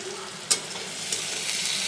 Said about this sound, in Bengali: পেঁয়াজ মরিচটা ভালো করে ভেজে নিব